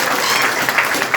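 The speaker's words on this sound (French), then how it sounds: "je vous demande d'applaudir" Brief burst of audience applause at a closing ceremony for a digital-inclusion computer training in Ndiaganiao, steady clapping from a gathered crowd lasting about a second.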